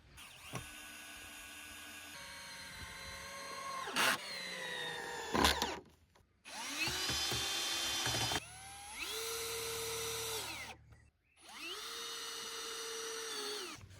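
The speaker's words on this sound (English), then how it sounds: "so around 8 screws on these battens, through the upper one deep into the lower one" A power drill drives screws through an upper wooden batten into a lower one, with repeated whining bursts that rise and hold in pitch, separated by short pauses and clicks.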